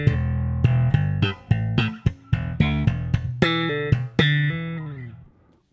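Bass guitar plays the second bar of a tune: a run of about a dozen clean, plucked notes with a hammer-on, close and clear, the last note ringing out and fading.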